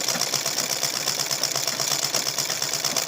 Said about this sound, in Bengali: এখন আমরা সেলাই করে নিচ্ছি